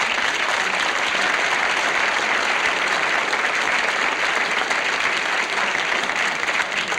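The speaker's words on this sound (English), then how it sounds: "About time you applauded something." Studio audience at a television comedy hour breaks into loud, sustained applause, dense even clapping filling the room without a break.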